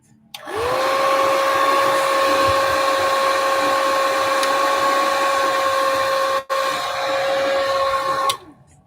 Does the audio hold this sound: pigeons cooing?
no